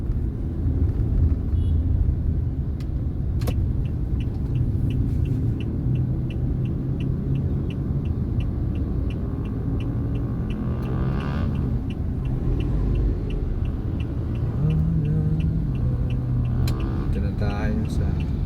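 Car driving in heavy Metro Manila city traffic, a steady low engine and road rumble throughout with occasional passing vehicles and faint clicks, while people talk inside the car.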